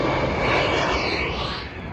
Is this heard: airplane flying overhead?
yes